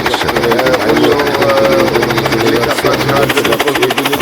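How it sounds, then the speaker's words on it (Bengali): A steady, loud helicopter engine drone with a rapid pulsing rotor chop runs throughout, close by, with voices talking over it. "এখনই হয়তো হেলিকপ্টার ছেড়ে দেবে"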